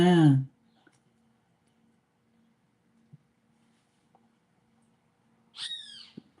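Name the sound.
bird calling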